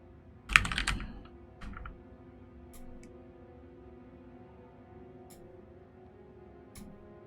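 A few sharp computer keyboard clicks, close and fairly loud, with one dense burst of keystrokes followed by scattered single taps over a quiet background; no talking.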